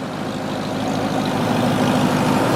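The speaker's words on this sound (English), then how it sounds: "Give us a rev, Bri." Engine of a lifted third-generation Toyota Tacoma pickup running loud and steady with a deep low rumble, the revs climbing gradually over a couple of seconds with no talk.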